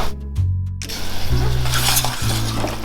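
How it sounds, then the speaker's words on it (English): Port wine, cider vinegar, coarse black pepper and salt being mixed together in a pan, producing a stirring, liquid swish with low sizzling and hum, close and fairly loud. "Mix all those ingredients together."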